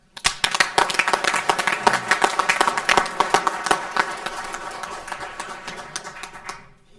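A round of applause fills a Board of Commissioners meeting room, steady dense clapping from many hands for several seconds before fading out at the end.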